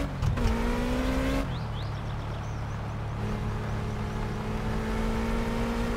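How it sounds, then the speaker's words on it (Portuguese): The Satsuma's engine in the game My Summer Car revs hard in second gear at low revs, a loud steady drone that shifts pitch partway through and then holds steady. "Tô pisando tudo de segunda aqui, não tem força em baixa rotação."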